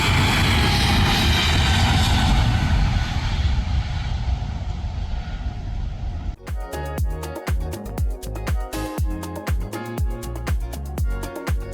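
Scoot Embraer E190 jet roaring loudly on its takeoff run about 50 metres away, a thick steady rumble that cuts off abruptly and gives way to music.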